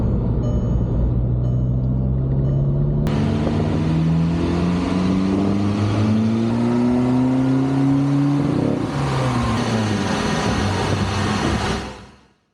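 A mapped VW Golf Mk5 TDI PD diesel with a hybrid turbo runs loud on a rolling road dyno, its engine note climbing steadily through a long pull before dropping and cutting off abruptly.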